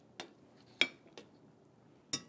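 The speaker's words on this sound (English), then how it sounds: "I'm going to close it and let all of these ingredients" A metal lid settles onto a cooking pot holding fish, water and other ingredients, giving four light, quiet clinks spaced unevenly over about two seconds.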